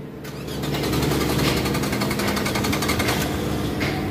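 A 2006 Lexus IS300 with a 3GR engine and a broken timing cover cranks and catches, settling into a steady, loud, close-up running sound for several seconds.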